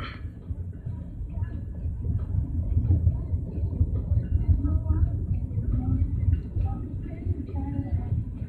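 A Kanawha River Railroad freight train rolls past beside the Kanawha River, making a continuous deep rumble with rattling cars. People talk nearby over the train.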